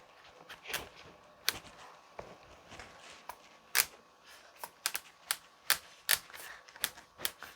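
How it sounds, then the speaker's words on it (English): A knife saws back and forth through a butternut squash on a board, a loose series of sharp close clicks and taps that bunch up toward the end. "moving my knife back forth, and that's it."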